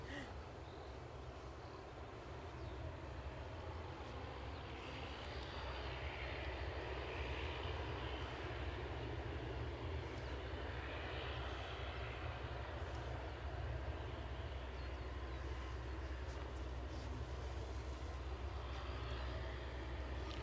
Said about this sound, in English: Can just see the ATR that is on finals